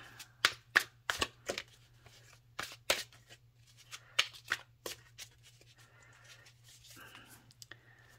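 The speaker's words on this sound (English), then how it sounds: "it is so hard to shuffle. The cards are too tall for my hands." A tall oracle card deck shuffled by hand, giving repeated riffling bursts in an uneven rhythm, close and fairly quiet, with soft whispering faintly underneath at times.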